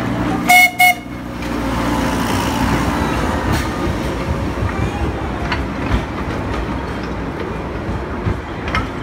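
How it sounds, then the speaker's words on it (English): Steady rumble of a moving train heard from aboard, with a brief horn toot at the start and faint rhythmic rattling, a few voices in the background. "We're on the train."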